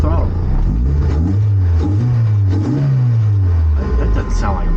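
A Honda VTEC engine fitted in a classic Mini Cooper rumbles loudly close by, its revs rising and falling in several throttle blips over a steady idle, with people talking over it.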